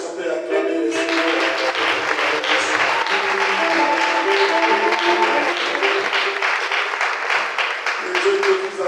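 A church congregation at an evening service claps and cheers in praise of the Lord, a loud, continuous wash of many hands applauding close by, with voices mixed in.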